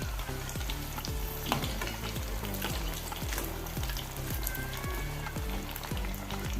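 Chana and soybean vadas frying in hot oil, a steady crackling sizzle running throughout with background music carrying a repeating beat on top.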